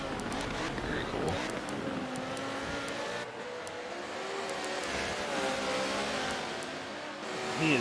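Racing car engines in Gran Turismo during a Lamborghini race, several engines whining and shifting pitch as they accelerate and pass, steady and fairly loud throughout with faint commentary under them.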